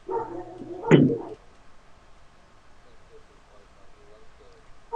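Dog on a podcast recording, giving one short close bark followed by near silence with faint room noise.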